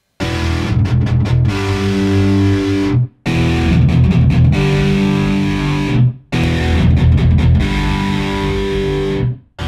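An electric guitar goes through Generation amp head and speaker cabinet models, playing a loud distorted riff with choppy stabs into held chords three times, each pass cut off by a short silence, with no voices.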